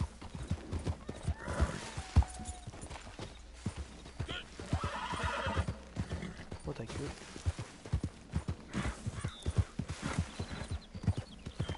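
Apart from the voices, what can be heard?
horse hooves and neighing in a PS4 video game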